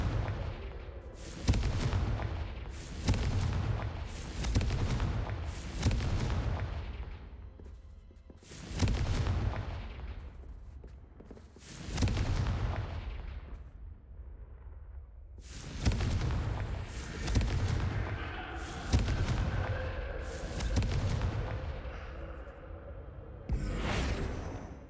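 Repeated fiery spell blasts from the Confringo curse in the Hogwarts Legacy game, a dozen or so booming explosive bursts in an irregular rhythm, loud and close, each ending in a short decaying rumble.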